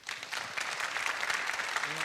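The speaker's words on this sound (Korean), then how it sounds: "박수로 맞아주시죠." A studio audience applauds to welcome a guest at an economics talk concert, a short burst of fairly soft, even clapping from a crowd.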